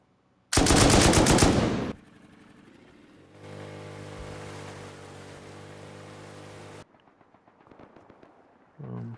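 AK rifle fire in the online survival game Rust: a loud rapid burst of automatic shots, then a steady mechanical drone, followed by faint scattered noises and a closing thump.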